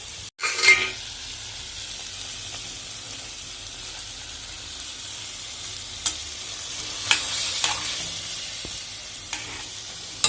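Mango pieces and white sugar syrup are stirred in a pan over a low flame for a sweet pachadi, with a soft, steady scraping and faint sizzle, plus a few light clinks of the spoon against the pan.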